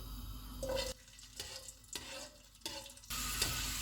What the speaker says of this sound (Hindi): जो बादाम हमने बचा के रखे हुए थे इनको फ्राई करेंगे।